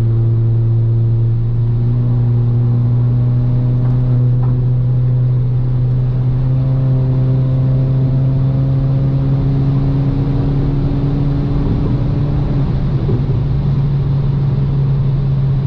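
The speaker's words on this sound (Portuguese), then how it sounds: "Olha o upzinho acelerando aqui, ó" A tuned stage 4 Volkswagen Up accelerates on a highway, its engine a loud, steady, droning hum that holds close and even for the whole stretch, with no voices.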